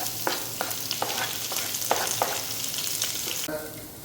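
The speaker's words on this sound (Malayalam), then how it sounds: "സോ ചെറിയ ഉള്ളി ഇടാം കട്ട് ചെയ്ത് വെച്ചിരുന്നതിന്." Chopped shallots frying in a pan with ginger and garlic for a beef roast give a steady, close sizzle with periodic stirring scrapes, continuous for a few seconds before easing off.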